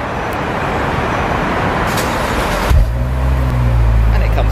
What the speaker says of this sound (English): Now it's time to remote start the ATSV